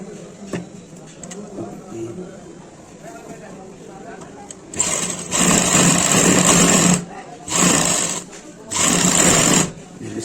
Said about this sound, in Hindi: अब उसको हम आराम से यहाँ पर किनारे पे सिलाई लगाएंगे।